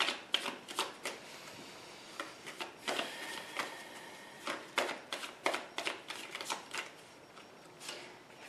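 Cards from Rider-Waite and Druid Craft tarot decks shuffled with crisp riffling flutters and light taps as cards are drawn, a quick irregular rhythm of soft papery bursts, close and fairly quiet with no talking.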